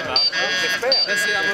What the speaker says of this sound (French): Les élus vont appuyer sur un buzzer symbolique.